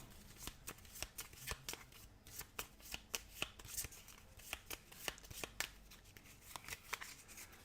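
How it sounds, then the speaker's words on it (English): A Marvel United card deck is shuffled close up, with repeated quick riffles and snapping card slaps in an irregular rhythm, quiet and without talking. "shuffle his deck"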